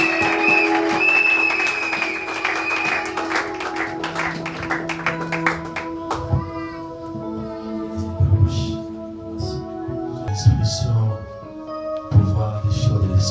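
A church congregation claps in steady rhythm at a Sunday service, layered over sustained keyboard-like tones. The clapping thins out later while voices and music continue.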